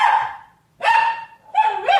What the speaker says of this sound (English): so they can go bark and be done rather than standing here howling at the door like a hyena